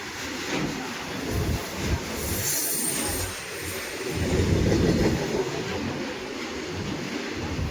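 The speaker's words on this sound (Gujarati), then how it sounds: "ચાલો ભાઈ રેલવે આવી ગઈ છે અમરસર ફાટકે" A train rumbles past close by at a closed railway crossing gate, a steady loud roar of wheels on rails with metallic squealing and clatter throughout, no voices.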